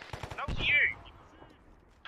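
Arma 3 gunfire, with a quick burst of several rifle shots and then one louder shot and its trailing echo, with a brief crack at the end, close and punchy.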